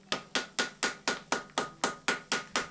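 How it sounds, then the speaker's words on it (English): Light, fast hammer blows forge welding a multi-layer steel knife billet with a herringbone pattern, eleven evenly spaced ringing strikes close and loud, each decaying quickly before the next. "I start the forge welding with light and fast hammer blows again."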